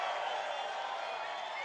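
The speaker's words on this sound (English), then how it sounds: "This is a big crowd." A large crowd at a Trump rally in Butler, Pennsylvania, sends up a brief, steady roar of cheering that holds at an even level throughout.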